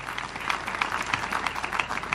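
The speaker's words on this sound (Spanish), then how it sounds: "Les pido un aplauso para las promociones que se despiden todavía con vida" Applause for the departing graduating classes at a Bolivian military aeronautics polytechnic anniversary ceremony, a steady wash of many hands clapping at moderate level with scattered sharper claps throughout.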